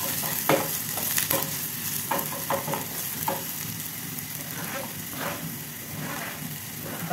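Finely chopped onion sizzles steadily in a hot pan, with repeated scraping and stirring strokes of a spatula over continuous frying noise, close and fairly loud.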